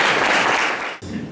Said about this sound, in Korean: 최종환 대표님께 큰 박수 다시 한번 부탁드립니다